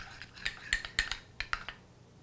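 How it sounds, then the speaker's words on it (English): Spoon clinking and scraping in a dish while stirring a homemade kitchen body scrub made from food ingredients with a few drops of essential oils; about eight close, sharp taps and scrapes over two seconds, with no talking. "stir it up"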